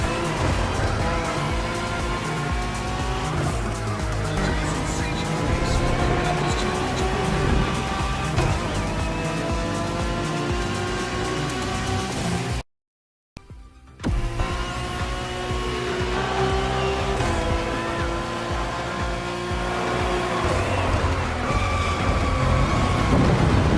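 Acura NSX GT3 race cars on a track in The Crew Motorfest, engines droning and rising in pitch through gear changes, loud and continuous except for a momentary dropout near the middle, with no speech.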